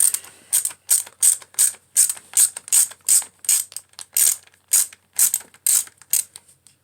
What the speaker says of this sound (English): so I had to go get a ratchet and a 4mm socket, or hex for this out of my toolkit.